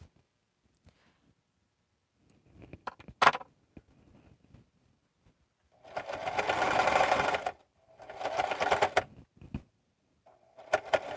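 A heavy-duty sewing machine stitches through thick bag fabric in several loud, steady bursts of rapid mechanical whirring, separated by short pauses and a few quiet clicks.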